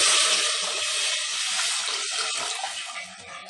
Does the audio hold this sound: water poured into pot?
yes